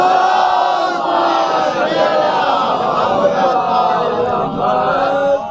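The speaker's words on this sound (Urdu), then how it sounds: "شہزادی کی بارگاہ میں بلند ترین نعرے صلوات" At a Muharram majlis gathering, a crowd loudly chants salawat together, a continuous, forceful swell of many voices that stays strong from start to finish.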